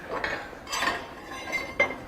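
A few sharp metallic knocks and chinks at uneven intervals as a chipping hammer knocks slag off a stick weld, close by with no talking.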